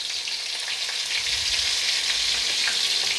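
Green chillies and onion sizzle steadily in a pan of oil for Nellore-style fish curry, a dense, even frying hiss that holds at the same level throughout with no voices.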